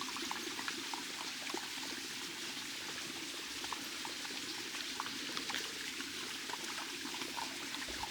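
Gentle water trickles and babbles continuously at a low, even level, a small stream on a hiking trail near a waterfall, with no other sounds.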